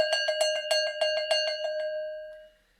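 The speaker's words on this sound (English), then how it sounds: "One would be the Swiss cowbell." A Swiss cowbell with a clapper rings rapidly with a bright, repeated clanging that rings on, then fades into silence after a couple of seconds.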